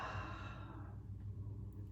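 A single deep exhale during a guided breathing exercise, a long breathy sigh that starts full and gradually fades over about two seconds, heard close and alone.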